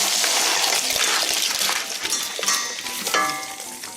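Clams and turban shells drop into a hot pan already holding ishigaki sea bream, and a loud, continuous sizzle and bubbling hiss fills the space with sputtering crackles throughout.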